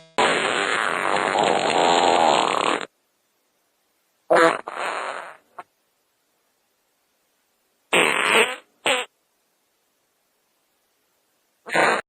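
Cartoonish fart sound effects play alone: one long sputtering blast, then a shorter burst with a tiny blip, a double pop, and a final short burst at the end, separated by silence.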